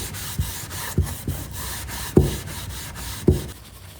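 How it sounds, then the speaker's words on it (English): Towel rubbing dark wax off a thrifted mold under firm pressure, heard as a few scattered scuffing strokes, each with a sharp onset that quickly fades, fairly close. "I'm applying a decent amount of pressure to get this dark wax off here"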